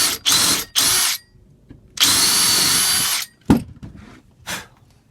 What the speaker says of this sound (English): Get the countersink.